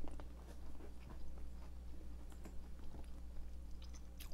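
Close, soft chewing of air-fried vegetables and spicy chicken breast, with continuous moist crunching and small bites repeating steadily throughout.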